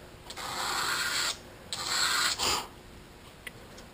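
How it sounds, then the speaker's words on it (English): Sandpaper rasps across the cut end of a brake line tube in two long strokes followed by a short scrape, close and dry with no voices. "Take some sandpaper, just walk it across."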